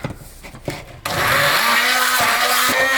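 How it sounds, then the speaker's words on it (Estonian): An immersion blender purees food in a home kitchen. After a second of quiet handling noises it roars to life as a loud, steady whir, with the pitch dipping briefly as it works through the mixture. "Selle pean nüüd saumiksriga ära püreestama."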